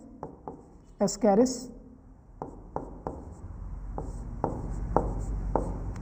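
Chalk or marker strokes on a board during a biology lesson, a series of short scratchy taps and scrapes spaced irregularly, close and fairly clear, with a brief burst of talk near the start.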